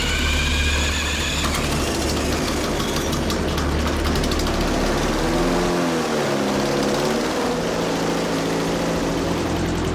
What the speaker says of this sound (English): we have an engine